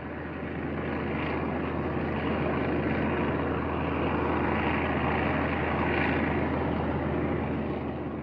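A dense, steady drone of many propeller-driven engines as formations of Japanese bombers and fighters fly overhead, loud and continuous with a slight swelling rumble throughout.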